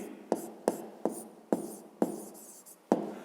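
Pen or pencil writing an answer into a fifth-grade maths exercise, a run of six short scratchy strokes and taps at uneven intervals, close and quiet with no talk.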